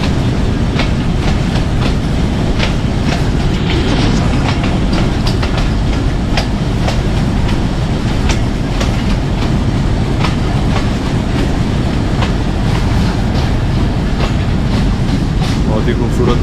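Passenger train running on rails from Rawalpindi toward Havelian in light rain, a steady loud rumble with rhythmic clickety-clack of wagon wheels throughout, close and continuous.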